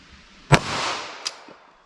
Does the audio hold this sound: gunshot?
yes